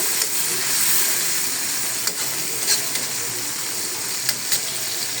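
Sliced onions sizzle in oil with salt and chili in a honeycomb-pattern wok, a close, steady crackling hiss with a few sharper pops and no talking.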